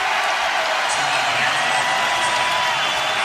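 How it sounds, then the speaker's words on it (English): Crowd noise filling an arena at the 2019 Big Ten wrestling championships, a continuous roar of many voices with scattered shouts, steady and fairly loud throughout. "The crowd noise you hear, of course,"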